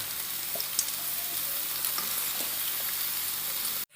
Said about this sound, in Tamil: இப்போ காடையை வந்து மசாலா எல்லாத்துலேயும் படுற அளவுக்கு நம்ம திருப்பிக்கலாம்.